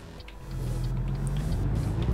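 Truck engine in American Truck Simulator dropping a gear, a low steady rumble that swells and grows louder as the revs climb, with no talk over it.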